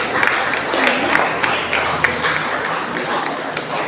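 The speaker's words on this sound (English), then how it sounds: "Here and big round of applause." Sustained applause fills the hall at a school award ceremony as a student comes up, a dense, even roar of many hands with a few sharper claps poking through.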